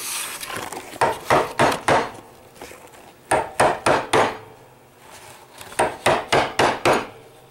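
Chisel chopping into wood while cutting joinery for a bookcase at a workbench: three bursts of sharp, close, hollow strikes, each a quick run of four or five blows, separated by brief pauses.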